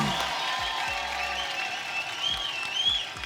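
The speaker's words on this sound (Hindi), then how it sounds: "एक बार जोरदार तालियां कटरीना कैफ के लिए" A studio audience on a Hindi comedy talk show applauds a celebrity guest, with steady clapping and crowd noise mixed with background music throughout.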